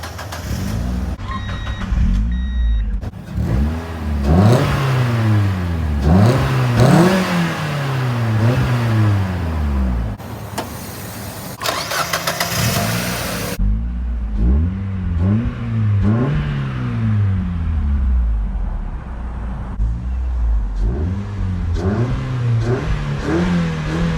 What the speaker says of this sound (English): Today I'm driving 99 Mazda Miata.